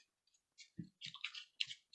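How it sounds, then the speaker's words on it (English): A deck of playing cards is shuffled by hand in a few quick riffling bursts separated by brief pauses, close and soft, with no talking. "I'm just going to keep randomly shuffling"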